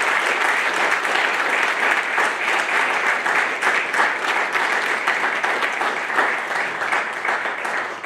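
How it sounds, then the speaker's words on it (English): Sustained audience applause at a Navy graduation ceremony for new third-class petty officers, a steady dense wash of clapping that holds evenly throughout without a break. "please join me in a round of applause for the Navy's newest third-class petty officers"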